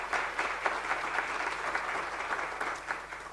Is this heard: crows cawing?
no